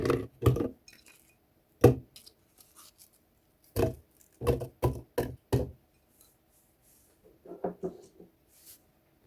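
Apple pieces are dropped into a speed blender jar as smoothie ingredients, giving a series of sharp hard knocks and thuds, some in quick clusters, loud and close, with quieter rustling near the end.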